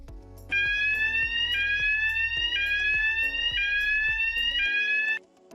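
An M-Pulse2pro industrial metal detector sounds its metal alarm as test pieces of ferrous, non-ferrous and stainless steel pass the sensor: a loud, shrill, repeating electronic tone in five even pulses over a low rhythmic thumping, then it stops.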